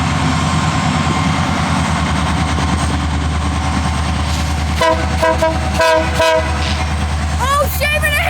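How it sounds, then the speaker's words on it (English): An ES44AC locomotive hauls a freight train past with a deep, steady rumble, loud and close, then sounds its horn in several short blasts near the end, with voices cheering over it. "We got another train coming in this thing."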